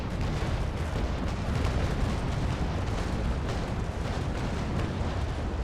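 A naval battle in the video game Naval Action produces a dense, continuous rumble of cannon broadside fire, heavy, low and booming throughout with no clear gaps or speech.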